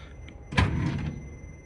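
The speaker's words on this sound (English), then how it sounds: "Nice deep drawers." A deep drawer in a cruise ship cabin desk slides open with a short scraping thump and rattle, close and brief against a quiet room.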